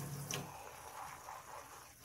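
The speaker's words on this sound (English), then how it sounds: "The frother can be rinsed" Water runs steadily and faintly from a tap while a Nespresso milk frother is rinsed, a continuous soft hiss with no talk.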